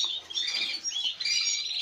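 Nestling birds in an aviary chirp in a busy overlapping chorus, thin high peeping calls coming close and steady with no voices.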